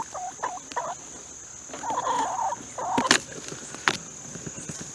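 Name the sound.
chickens and ducks foraging under autumn olive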